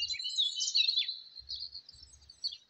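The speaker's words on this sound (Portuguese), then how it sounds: "acordamos com o canto dos pássaros" Birds chirp and sing continuously in high, bright bursts, fairly close, with a few low rumbles from the surroundings underneath.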